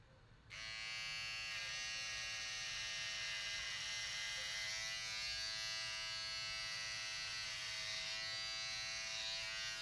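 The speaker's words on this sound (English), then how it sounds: "I think I'm going to shave one of these, maybe this side." An electric razor buzzes steadily and loudly right at the microphone while shaving hair, starting abruptly and holding a continuous whirring drone with slight changes in pitch as it moves.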